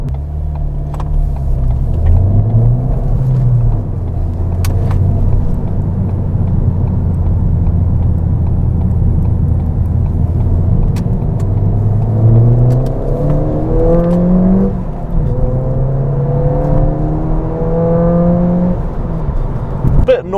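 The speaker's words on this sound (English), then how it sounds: "Oh, God, going through the gears." A Ford Fiesta ST hatchback engine revs up and drops repeatedly as it shifts through gears, a loud continuous drone rising in pitch with each pull, heard from inside.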